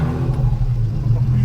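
A Toyota Cressida kaido racer with a header dump exhaust rumbles loudly up close, its deep uneven engine note pulsing steadily with a throaty, raw edge.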